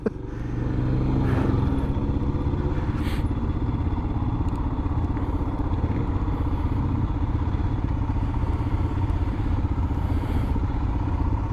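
A 2021 Royal Enfield Himalayan motorcycle crawls along a street at barely opened throttle, its single-cylinder engine putting out a steady, close, low thumping idle with faint clatter, and no talking.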